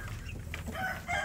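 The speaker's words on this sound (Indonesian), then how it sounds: "anak ayam kampung saya ini sudah besar-besar ya" Free-range village chickens (ayam kampung), grown young birds being raised as breeding stock, cluck and call in a short burst close by, with a steady low background hum underneath.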